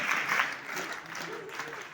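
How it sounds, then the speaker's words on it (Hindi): Applause at the closing ceremony of a three-day scout and guide training camp, a steady wash of many hands clapping from a gathered crowd of schoolchildren, moderately loud and continuous throughout, peaking early then settling. "ताली बजा"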